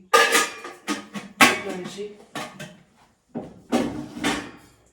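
Old metal pots clank and scrape in short bursts with pauses between, close by and fairly loud, in a traditional village setting.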